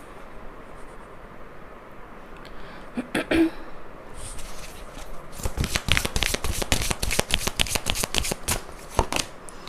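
Tarot cards shuffled by hand during a reading: a faint rustle first, then a run of quick crisp riffling snaps, close and fairly loud.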